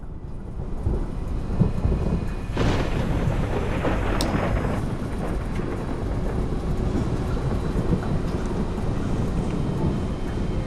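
A thunderstorm rumbles continuously in a heavy, dense roar, with a sharper crack of thunder partway through and rain-like hiss underneath, no voices.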